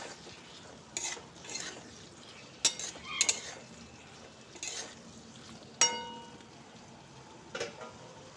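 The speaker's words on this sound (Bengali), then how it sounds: "দিয়ে মশলাগুলোকে আমি আলুর সঙ্গে আবারও খুব ভালো করে কষিয়ে নেব।" Potatoes with spices fry quietly in a pan while a utensil stirs them, several sharp scrapes and clinks of metal against the pan breaking through a faint, low sizzle.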